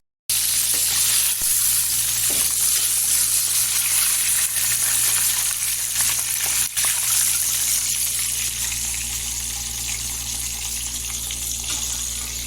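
Chicken broast deep-frying in oil in a kadhai over low heat, a steady close hiss and crackle of bubbling oil that holds at an even level throughout, with no voices.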